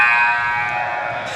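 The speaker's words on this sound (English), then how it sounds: "And there is the final buzzer." A final buzzer at a college basketball game between Texas Community Christian College and Paul Quinn College sounds as one loud, sustained electronic tone that drones steadily and tapers slightly over about a second and a half.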